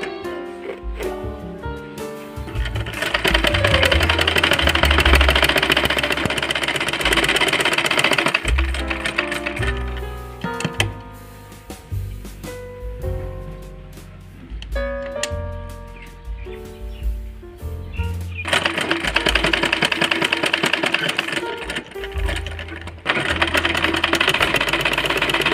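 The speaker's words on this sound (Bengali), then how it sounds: "এই যে এইভাবে উল্টিয়ে সেলাই দিতে হবে।" A sewing machine runs in several bursts as it stitches a turned-over fabric strip for a child's frock, its close mechanical whir stopping and restarting between quieter handling noises.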